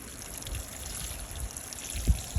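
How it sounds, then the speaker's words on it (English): Water being poured onto freshly planted potato plants in a garden: a steady, soft trickle and splash holding for the whole stretch, close by, with no one talking. "Now I'm getting ready to give them a little bit of water."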